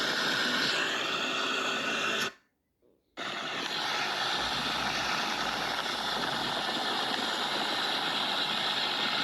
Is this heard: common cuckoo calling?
no